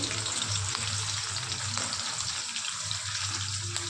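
Spices and curry leaves fry in hot oil for a village-style fish curry. The sound is a dense, continuous close sizzle with a low steady hum underneath and a few faint scrapes.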